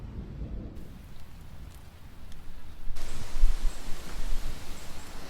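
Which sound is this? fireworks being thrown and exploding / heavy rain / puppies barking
heavy rain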